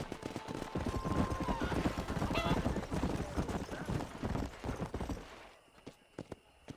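Horses gallop in Red Dead Redemption, with rapid hoofbeats drumming loudly and steadily under a busy game mix, then dropping off into a few scattered thuds near the end.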